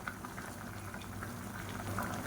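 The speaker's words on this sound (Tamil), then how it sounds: "இப்போ நல்லா கொதிக்க ஆரம்பிச்சிருச்சு." Pot of water with mint and coriander at a rolling boil for biryani, a continuous bubbling and gurgling that is moderately loud and close, with no voices.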